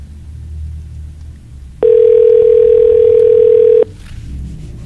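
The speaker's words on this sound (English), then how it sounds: "Answer the phone." A single sustained electronic telephone ring lasts about two seconds over low background rumble during a live radio show, then cuts off abruptly.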